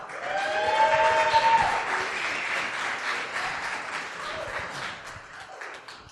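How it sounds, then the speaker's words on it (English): A conference audience at a security event applauds a speaker being introduced, a dense, steady burst of clapping from many people that slowly fades, with a few voices and whoops mixed in. "Give him a round of applause."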